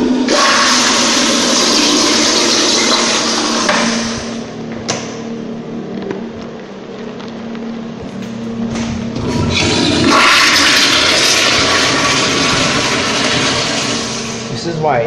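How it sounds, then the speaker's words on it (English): Toilet flushing loudly and close up, a sustained rushing gurgle of water that swells, eases, then surges again for the full stretch. "Okay, toilet."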